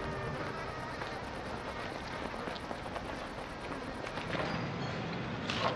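Mosquitoes swarm over an infested region of Soviet gulag mines, a continuous high whining buzz that holds steady and dense throughout, with no voices.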